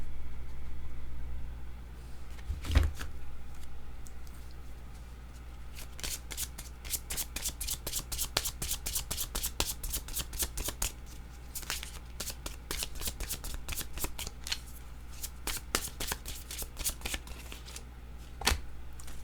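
Yellow tarot-style cards shuffled by hand in a steady run of crisp riffling bursts, close and clear, with a louder flick near the start and another near the end, no voices.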